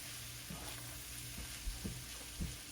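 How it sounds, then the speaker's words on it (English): Flour is mixed into melted butter in a pan for sausage gravy, a soft low sizzle with a few quiet scrapes and taps from the spoon, close but faint. "So let's go ahead and add the flour, mix that together."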